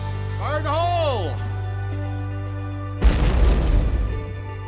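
An underwater tunnel-blasting charge detonates at the Lake Mead third intake: a sudden deep boom about three seconds in, rumbling and decaying over the next second, after a steady mechanical hum and a shouted warning voice.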